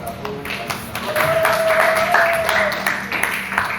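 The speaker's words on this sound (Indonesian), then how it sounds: "tepuk tangan buat kelompok 1" Junior high students applaud a group after a first-aid lesson presentation: steady, moderately loud clapping through the whole stretch, with a brief drawn-out vocal tone partway through.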